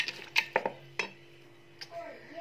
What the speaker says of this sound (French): je prépare, je mélange bien